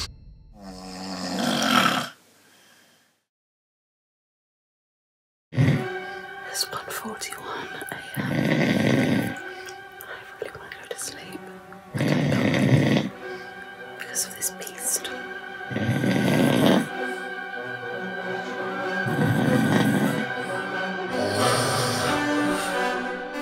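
A sleeping person with sleep apnoea snores loudly in rhythmic, rasping bursts every few seconds, after an early stretch of silence where breathing stops.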